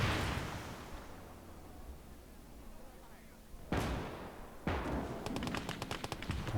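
Gunfire aimed at a tank during a Finland skirmish in Call to Arms: Gates of Hell. A low rumbling backdrop is broken by two sharp loud cracks, then a rapid machine-gun burst of close repeated shots.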